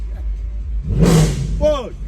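Mercedes W204 C63 AMG engine revving up close, a deep rumbling idle that swells into a short roaring rev with rising pitch, with someone talking over it.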